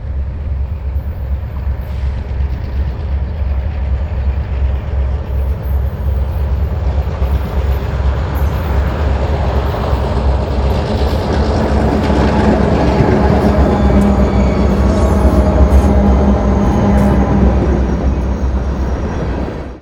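A freight train led by an MP-15 locomotive runs northbound above Dover, a loud continuous low diesel rumble with rolling wheel noise building slightly toward the end, alone without speech.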